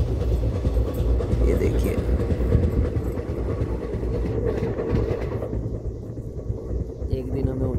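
A moving passenger train on a long-distance journey to Madurai gives a steady, loud rumble and rhythmic clatter from inside the carriage. Someone speaks briefly over it.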